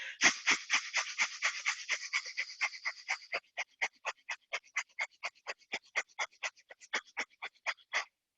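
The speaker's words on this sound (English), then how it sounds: "you do Bhastrika breathing, in and out through the nose like this" Rapid, forceful Bhastrika breaths pumped in and out through the nose during a yoga session, a long even train of sharp rhythmic huffs, close and alone, speeding slightly at first then settling into a steady beat.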